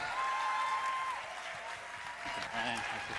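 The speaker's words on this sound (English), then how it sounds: "We need to really give him a round of applause." Applause from a seminar audience welcoming a guest lecturer, a steady broadband patter of many hands at moderate level that dips slightly midway, with a brief tone and some voices underneath.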